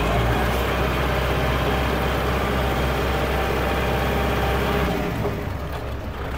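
A Kubota L5018SP tractor, a 2021 model fitted with a front blade and a six-disc plough, runs in gear with a steady, loud diesel drone and a low, even rumble that eases slightly near the end.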